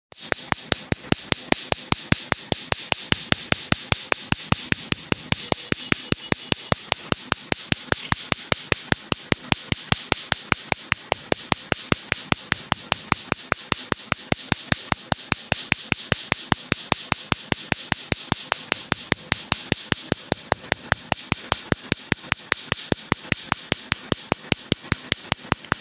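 A laser tattoo removal machine fires rapid, evenly spaced sharp clicking pulses, several per second, in a long unbroken run, loud and close with no voices over it.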